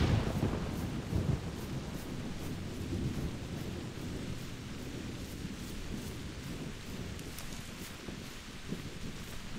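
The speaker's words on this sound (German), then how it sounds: "Ja, und mittlerweile regnet es mal wieder im Spiel." Rain pours steadily in The Hunter Primal video game during a thunderstorm, a dense, even hiss with a low rumble of thunder at the start, continuing at a moderate level throughout.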